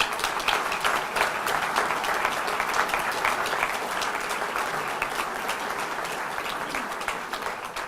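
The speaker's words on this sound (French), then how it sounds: "Ça mérite quelques applaudissements." A crowd applauds at a municipal New Year wishes ceremony, loud dense clapping that holds steady for several seconds before easing slightly toward the end.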